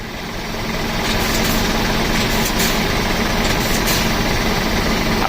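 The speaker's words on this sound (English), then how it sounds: "nice sharp acceleration as if you're trying to drive off" Articulated lorry tractor unit pulling away sharply in first gear during a tug test while recoupling a trailer: a steady, loud diesel engine drone that rises and holds throughout.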